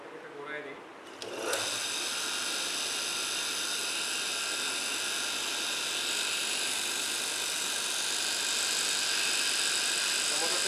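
A single-phase induction motor with a weak capacitor starts after a brief hand spin, then runs with a steady, loud, even whine and hum that holds for the rest of the clip.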